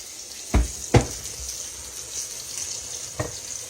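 Country fried steak frying in a pan gives a soft steady sizzle, with a few sharp clatters and knocks of a spatula or utensil against the pan during turning, and no voice.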